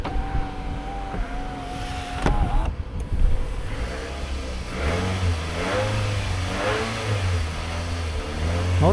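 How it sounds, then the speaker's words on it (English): A car engine at a live dealer auction runs steadily nearby, then its pitch rises and falls in several revs. "Motor sounds good."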